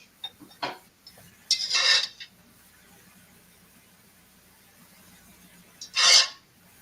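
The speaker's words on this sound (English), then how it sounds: "I'm scraping the bottom just for Tom" A utensil scrapes the bottom of a pan while sausage cooks, three short rasping strokes close by with a faint background hum between them.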